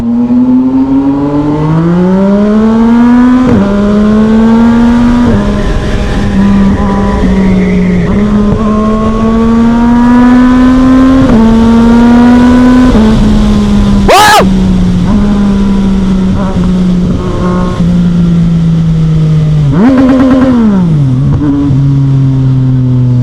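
A Yamaha XSR 900 motorcycle engine roars loud and close while overtaking on a Distinguished Gentleman's Ride, revs climbing through several gears with brief dips at the shifts and a sharp spike midway.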